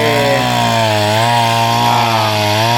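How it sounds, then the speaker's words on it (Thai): Loud, steady mechanical engine drone with a grinding whine of a powered auger boring post holes into soil for a barbed-wire fence, continuous and close throughout. "ขั้นตอนเจาะหลุมครับเพื่อตั้งเสาและเท"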